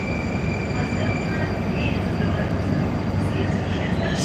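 A Moscow metro subway train runs with a loud, continuous rumble and a constant high whine, a steady roar filling the whole stretch.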